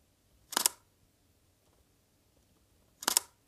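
Two crisp single camera shutter clicks, about two and a half seconds apart, are heard up close in a quiet room while aquarium fish are photographed with a budget camera kit at a 1/200 shutter speed.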